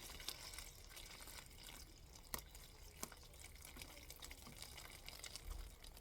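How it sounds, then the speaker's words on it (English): Water trickles into a cellophane bubble inside a boxed flower bouquet, a quiet, steady pour with occasional faint drips and plastic taps, close by and soft. "you can see that it's filling up nicely now"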